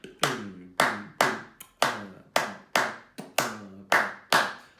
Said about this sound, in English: it's a clap on 1, it's a clap on the end of 2, 1, 2, 3, 4, it's a clap on 4